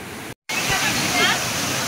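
Aliw Falls, a tall waterfall in Luisiana, Laguna, roars as a steady broadband rush of falling water, close and continuous apart from one brief dropout near the start.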